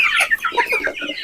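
Free-range village chickens cluck close by at their feed, several short, busy clucks overlapping in quick succession with no voices.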